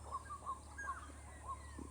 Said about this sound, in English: Birds in the background and village dogs in the foreground.